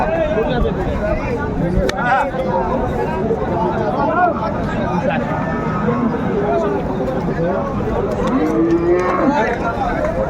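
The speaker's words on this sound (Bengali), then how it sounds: "খামার উপযোগী ষাঁড় গরুগুলো যেখানে বেচা কেনা হচ্ছে সেই জায়গায় রয়েছে আমরা" Sahiwal bulls at a busy farm cattle market, with loud, repeated moos rising over a dense, steady crowd babble of many people talking nearby.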